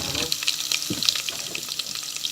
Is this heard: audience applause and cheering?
no